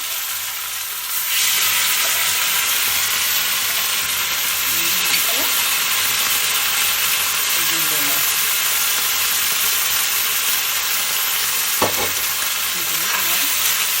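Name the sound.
boiled knolkhol and potatoes added to the pan, sizzling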